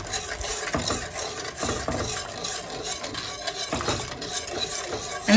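A whisk scrapes and stirs gravy in a pan on the stove, with repeated rhythmic strokes and soft metallic clinks, close and fairly quiet, with no talking.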